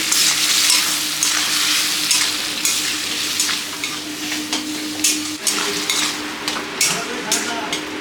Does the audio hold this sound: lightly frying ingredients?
yes